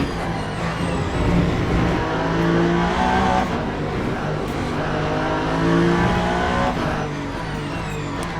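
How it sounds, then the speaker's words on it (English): A race car in the Le Mans Ultimate sim at the Bahrain 8-hour race, with its engine droning loud and continuous under heavy braking into a turn and faint tire squeal as the pitch shifts down. "Heavy braking again and locking into turn"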